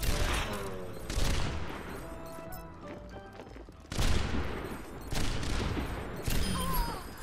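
Rapid gunfire bursts crackle through a match in the video game Overwatch, clustered volleys of shots separated by brief lulls, loud and close.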